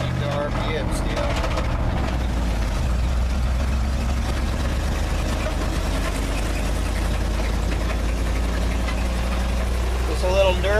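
A 1957 GMC truck engine idles rough and uneven, a low rumbling chug held at steady revs, with a brief rise near the end.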